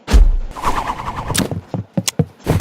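Gunfire from a Roblox game comes as several sharp, punchy shots, a couple close together, mixed with brief thuds and a squeal.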